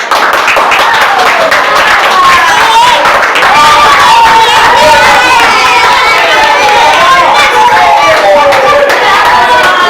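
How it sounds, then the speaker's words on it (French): Audience at a school debate bursts into loud, continuous applause with dense clapping and crowd noise, steady and close throughout, with a few voices mixed in. "Veuillez un tonnerre d'applaudissements pour nous"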